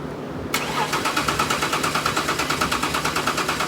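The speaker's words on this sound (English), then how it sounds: "We first unplugged some of the ignition wires and let the car crank for a few seconds to build up oil pressure" A BMW E39 engine with ignition wires unplugged is cranked over by the starter, giving a loud, fast rhythmic churning pulse that repeats evenly for about three seconds after a sudden start.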